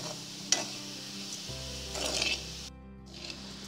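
Cooked dal and sugar stirred in a pan over a low flame, giving a soft, quiet scraping and faint sizzle, with a low steady hum behind it.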